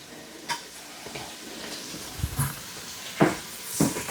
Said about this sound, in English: Let's give these onions a good stir.